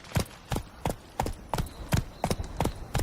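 Roach, the horse in The Witcher 3, gallops with steady, evenly spaced hoofbeats, about nine clear thuds in three seconds, close and moderately loud with no talk over them.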